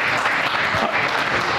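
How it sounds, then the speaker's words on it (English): An audience at a legislative networking reception applauds sponsors with brief, dense, continuous clapping that fills the room evenly from start to finish. "Let's give all those sponsors a big round of applause."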